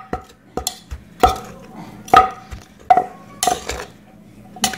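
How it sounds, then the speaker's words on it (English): A spoon clinks and scrapes against a bowl while stirring Lao dried fish dip (jeow pa haeng), giving a series of sharp, irregular metallic taps at close range with no talking. "Mix it well."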